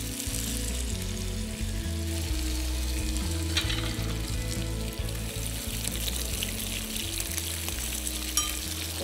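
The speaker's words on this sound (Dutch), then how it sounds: "we zijn die gewoon schoon aan het krokant bakken" Thin slices of fish sizzle and crackle steadily in hot chorizo oil in a pan as they crisp, close up and continuous, with no talking.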